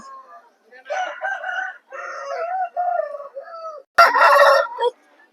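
At a Vijayawada poultry market, a rooster crows in a drawn-out, wavering call, followed after a brief pause by a sharper, louder burst, both close by with little background noise.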